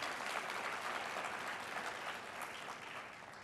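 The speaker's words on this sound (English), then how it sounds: "That's something you can give yourselves a round of applause about." Staff members at an association presentation applaud themselves, a soft, even rush of many hands clapping that carries steadily and fades a little toward the close.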